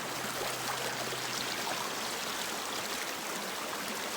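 A creek flows steadily near a gold prospecting site in Columbia, giving a continuous close rushing wash of water, even and unbroken, with no voices.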